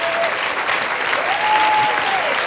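A church congregation applauds loudly and steadily, dense clapping filling the whole span with a faint tone underneath.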